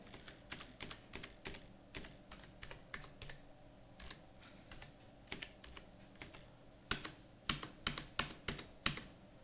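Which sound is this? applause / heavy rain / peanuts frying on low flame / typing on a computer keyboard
typing on a computer keyboard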